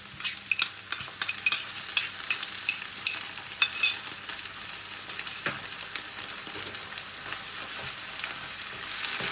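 Ginger garlic paste fries in a pan for an Anglo-Indian chicken curry over lowered heat, giving a steady close sizzle with crackles and intermittent stirring scrapes, and no talking.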